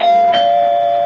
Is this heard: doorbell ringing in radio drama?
yes